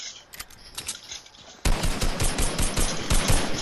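Rapid automatic gunfire rattles in a Fortnite match, starting as faint distant shots and then jumping to a loud, continuous burst of close-range firing.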